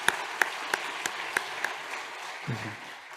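Applause from a church congregation during a Sunday worship service, heard as a few sharp claps spaced out at a steady pace, fairly close, fading out and followed by a low thump near the end.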